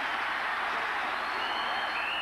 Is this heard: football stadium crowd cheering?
yes